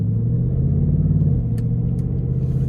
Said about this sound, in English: Now the shifts are a bit more harsh in the sport mode,